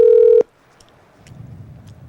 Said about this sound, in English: Here, we're calling Charlotte back now